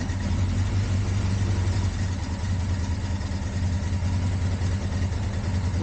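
A cold-blooded gasoline engine running low on fuel idles steadily and close by, a continuous even rumble with no talking.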